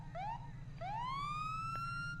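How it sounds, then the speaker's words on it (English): A police car siren in the video game GTA 5 gives a short rising chirp, then starts a longer upward wail over a low engine hum, loud and close. "We switch the sirens on."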